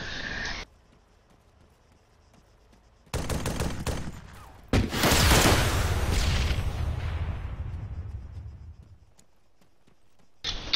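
Rapid bursts of gunfire open up, with a short volley after a quiet stretch, then a long, loud sustained barrage that slowly trails off, ending in another brief burst.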